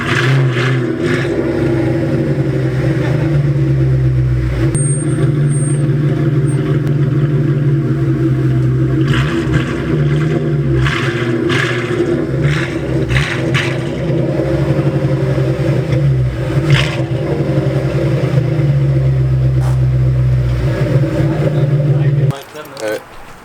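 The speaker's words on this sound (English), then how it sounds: "I can hear this exhaust going on." A Ford Mustang's exhaust rumbles in a steady, deep, close idle for over twenty seconds with small fluctuations, then cuts off near the end amid some clatter.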